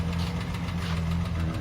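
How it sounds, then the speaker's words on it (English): A Valiant VG pub truck engine idles with a steady low rumble, a faint rocker tick from the front riding over the even running, close and uninterrupted. "we've got a bit of rocker noise in the big girl, but it always sounds 10 times worse than it is"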